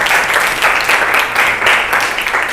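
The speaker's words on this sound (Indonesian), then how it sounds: "tepuk tangan untuk kelompok 5" Loud, continuous applause from a classroom for student group five, a dense unbroken wash of clapping.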